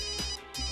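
A telephone rings in a tense police-drama scene, two short electronic ring bursts with a brief gap between them, loud and close with no talk over it.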